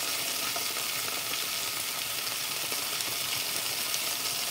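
Tomato and garlic fry in a hot pan, giving a steady, dense sizzle that stays even and close throughout, with no voices.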